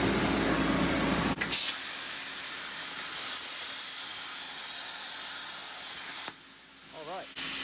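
Plasma torch cutting steel for a custom boat transducer mount, a loud steady hiss that cuts off abruptly, returns for several seconds, then stops with a brief clank.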